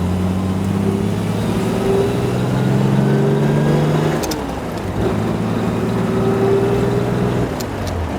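A 1964 Alvis TE21 drophead coupe engine drones steadily as the vintage touring car drives along the road, with a low hum that dips briefly midway, then resumes.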